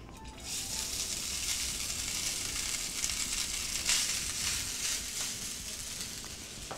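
Rice frying in a little hot oil in a pan for a green rice and tofu dish, giving a loud, steady sizzle with occasional crackles as it is stirred.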